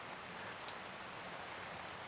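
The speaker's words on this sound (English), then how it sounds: "It's raining." Steady rain falling outdoors during roadside work on a Hyundai Tucson, a constant even hiss with no variation and no voices.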